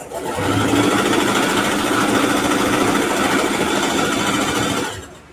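A home sewing machine stitches quilted fabric for a ruffle backpack, its motor whirring in a steady, loud, continuous run from start to finish before cutting off at the end.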